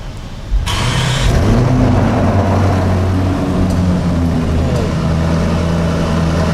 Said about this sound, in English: let's flick this start-stop button. Let's see what this engine and exhaust sound like.